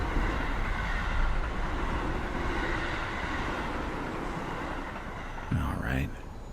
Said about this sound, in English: A train's coming.